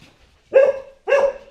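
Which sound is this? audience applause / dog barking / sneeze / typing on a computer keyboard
dog barking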